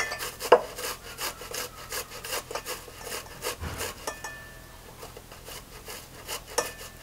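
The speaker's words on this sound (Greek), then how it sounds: "Πρώτη μας δουλειά, να τρίψουμε την ντομάτα στον τρίφτη." A halved tomato is rubbed back and forth across a hand grater, giving a series of rhythmic, close rasping strokes, with a few sharper knocks in between.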